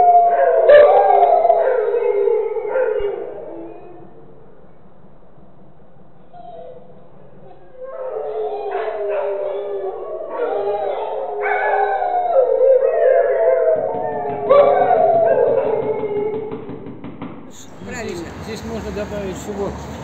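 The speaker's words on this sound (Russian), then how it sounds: "в любое время суток собаки гавкают" A pack of dogs near a residential apartment barks and howls in drawn-out, wavering calls that rise and fall across the stretch, fairly close, with a brief lull in the middle and a burst of other noise at the end.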